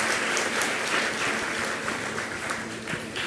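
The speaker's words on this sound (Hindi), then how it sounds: "तो तुम लोग तालियां बजाने का अभ्यास है कि नहीं?" Audience applause in a spiritual discourse hall, dense steady clapping from many hands filling the whole stretch without a break.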